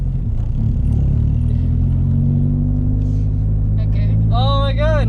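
A manual car's engine rumbles steadily at close range as it is shifted into second gear, a low drone with a faint rising pitch, while a person talks over it and a brief chirping sound appears near the end.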